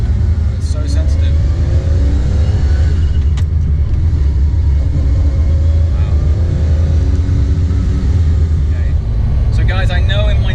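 A McLaren F1's engine pulls under throttle from inside the cabin, a loud deep rumble with rising rev sweeps, while people talk throughout.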